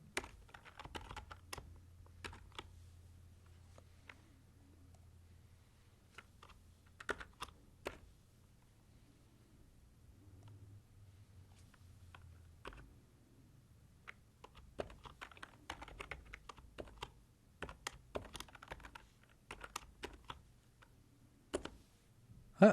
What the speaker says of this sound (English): I'm going to type in a function here.